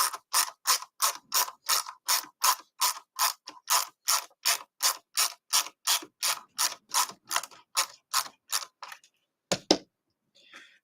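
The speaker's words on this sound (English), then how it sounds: "I'm just putting the outer screws in at the moment, and like before, I'm not screwing them all the way down." Outer screws are driven into a 3D printed guitar's saddles with a rapid, even series of about two dozen sharp ratcheting clicks, close and crisp. A final click follows after a short pause.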